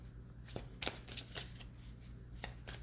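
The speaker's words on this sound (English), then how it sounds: "One more shuffle." Tarot cards are shuffled in quick riffling bursts, several crisp flurries in a row. The sound is close but quiet, with no talking over it.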